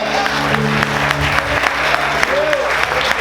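Steady applause from a crowd fills the whole stretch, a dense clapping texture with voices murmuring underneath.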